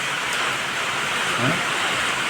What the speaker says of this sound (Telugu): బొట్టు బొట్టు వర్షం పడుతుంది తడుస్తాడు వర్షంలో మంచి వర్షం పడుతుంది చూడండి